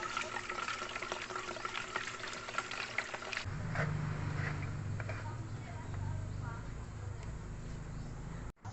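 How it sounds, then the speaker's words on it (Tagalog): Vitamin powder is stirred into water for Rhode Island Red chickens, giving soft sloshing and swirling liquid sounds close by, with a person talking over it. "haluin lang po natin para po magmix yung powder sa"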